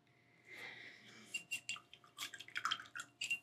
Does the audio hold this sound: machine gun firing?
no